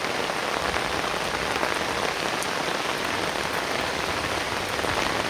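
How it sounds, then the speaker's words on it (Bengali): Rain pours onto a rooftop in a dense, even hiss of countless drops, close and constant for the whole stretch with no voices. "এই বৃষ্টির মাঝে ছাদে উঠে বৃষ্টি উপভোগ করছি"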